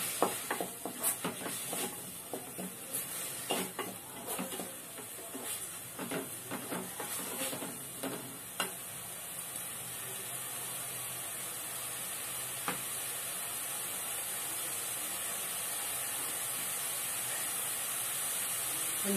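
Onions and tomatoes sauté in a pan for a crab curry (nandu kulambu), giving a steady, close sizzling hiss with scattered crackles and pops in the first half, then an even hiss. No one speaks.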